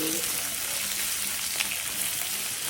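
Onion and curry leaves fry in hot oil for a prawn gravy, giving a loud, continuous close sizzle with a brief stirring clink midway.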